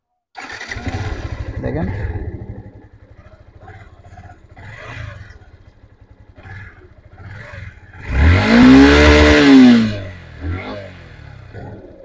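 A Yamaha FZS V3 motorcycle idles with a ticking engine under a man's speech, then roars in one strong, close rev that rises and falls before settling.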